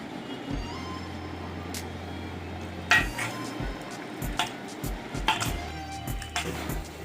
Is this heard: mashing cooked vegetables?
yes